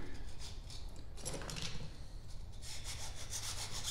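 Close, steady rasping and scraping of a small chainsaw-sharpening file working back and forth inside a narrow metal tube to remove burrs, with no talking.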